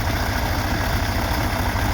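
A tractor used for spraying pesticide on a cumin field idles nearby, a loud, steady low engine rumble with a fast regular throb and no talking.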